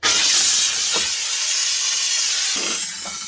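Compressed air hisses steadily and loudly through a coolant filling tool on a 2009 Toyota Camry 2.4L during a water pump replacement, with a couple of soft clunks near the end.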